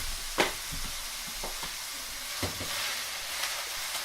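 Chopped meat browns in a lightly oiled pan with a close, continuous sizzle, punctuated by a few sharp spatula taps and scrapes.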